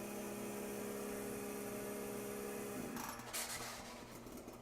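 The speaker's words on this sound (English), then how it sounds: "Okay, shutting down compressor." A process compressor on a chemical engineering lab skid hums steadily, then winds down and cuts off partway through, leaving quieter rattling and room noise.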